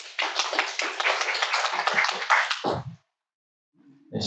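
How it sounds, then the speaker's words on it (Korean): Audience applause welcoming a speaker at a redevelopment lecture, a dense burst of many hands clapping steadily for nearly three seconds before stopping abruptly, followed by silence and a faint start of sound. "박수로 맞아주세요"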